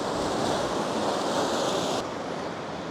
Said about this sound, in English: We might get some nice wave action around it.